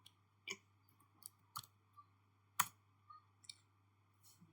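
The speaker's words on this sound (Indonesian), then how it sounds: "lalu kita ketik IP routing" A command is typed on a computer keyboard, giving a handful of sparse, sharp key clicks at irregular intervals over a quiet low hum, close and faint, with no talking.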